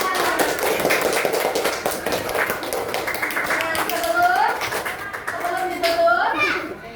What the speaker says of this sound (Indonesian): Ibu kasih apresiasi untuk kita semua dengan tepuk tangan